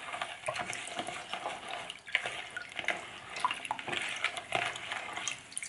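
Rice stirred by hand in a bowl of cloudy rinse water, sloshing and swishing in uneven strokes close up, with soft splashes and no talking.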